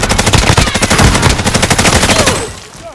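Rapid rifle gunfire in a Call of Duty Warzone match on Rebirth Island, a loud close burst of evenly spaced shots for about two and a half seconds before trailing off.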